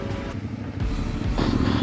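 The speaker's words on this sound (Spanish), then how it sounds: "Necesito ver cómo se comporta la moto al pasar por ahí." A motorcycle rides along a rough, wet mountain road, its engine running steadily close by with a low rumble, rising slightly near the end, and no talk over it.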